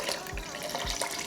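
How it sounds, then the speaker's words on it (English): Heated water phase being poured into the oil phase while making turmeric body butter: a soft, brief trickle and splash of hot liquid at close range. "I'm gonna be taking the heated water phase and I will be adding it to the oil phase"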